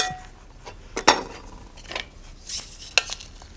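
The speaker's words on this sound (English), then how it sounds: "Just scrape it out of my little pink pixie pan" Rice scraped out of a small pink pan with a utensil, a few close scrapes and metallic clinks with short pauses between them, no talking.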